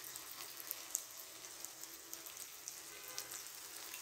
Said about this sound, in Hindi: ऑयल हमने गरम कर लिया है, मैं इन्हें पैन में फ्राई करूँगी